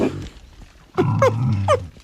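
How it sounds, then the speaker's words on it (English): Pigs stampede toward emptied bags of feed on a farm, giving a few short grunting squeals and snorts. The noise comes in bursts over about two seconds, moderately close and alone. "I can hear the pigs in the background."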